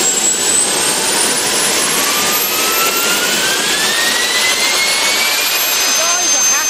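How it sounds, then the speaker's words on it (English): A small jet motor on a jet-powered ride-on board starts up and runs with a loud, steady roar and a whine that climbs in pitch as it spools up, close by. "Now, the guys will start the motor."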